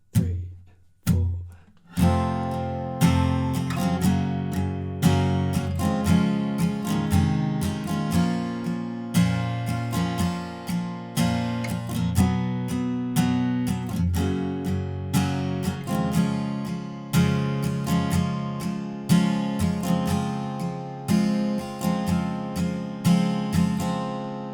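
Electric guitar strums the chorus chord progression of a song with an overdrive tone, steady rhythmic strumming with sharp attacks throughout, loud and close after a brief count-in pause.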